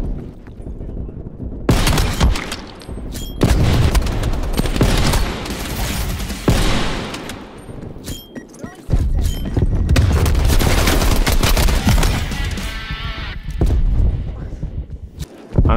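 Rapid pistol gunshots in the shooter game Black Ops Cold War, loud and close in repeated bursts, with footsteps and other game noise between them and someone talking over the action.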